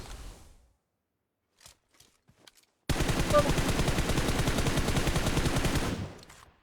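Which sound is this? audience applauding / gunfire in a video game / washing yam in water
gunfire in a video game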